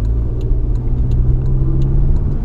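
A Toyota Corolla on the road gives off a steady engine hum and low rumble from inside the cabin, with faint ticking clicks over it.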